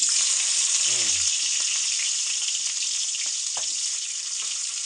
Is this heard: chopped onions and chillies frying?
yes